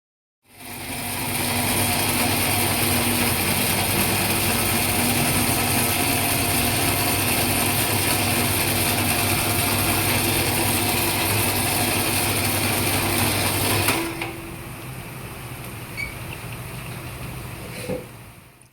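A karapusa snack-making machine in wholesale production runs with a loud, steady mechanical whir and rattle for about thirteen seconds, then cuts off, leaving faint clicks and a quiet room.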